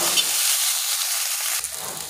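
Ginger, garlic and green chilli sizzle and hiss steadily in an oily pan as they are stirred, a bright continuous fry with a short scrape of the spoon near the end.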